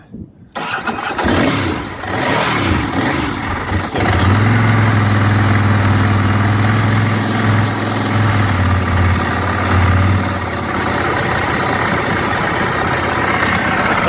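A Ducati 996 motorcycle engine starts cold and idles with a steady rumble on a cold, windy day, briefly revving higher before settling back to a loud, even idle.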